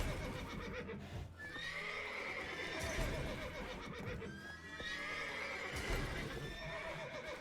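Panicked horses in The Witcher 3's stables let out several shrill whinnies, two prominent neighs a few seconds apart, over a busy bed of stamping hooves and low rumble.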